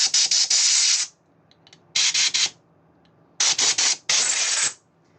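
Bursts of compressed air blast against a Denso G2/G3 diesel injector to clear metal filings, four loud hissing sprays with short pulses inside, separated by brief quiet gaps.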